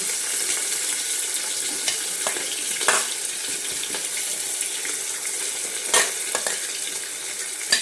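Chopped onions and cumin seeds frying in ghee and oil in a pressure cooker, with a constant close sizzle broken by occasional sharp clinks and scrapes of stirring.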